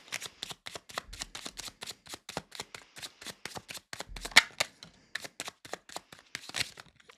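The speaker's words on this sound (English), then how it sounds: "Let's pull some cards and kind of get an idea of what other message needs to come through." Tarot cards are shuffled close up, a quick run of crisp riffling snaps and light taps in an uneven rhythm, with no voices over it.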